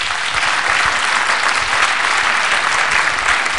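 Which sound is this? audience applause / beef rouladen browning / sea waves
audience applause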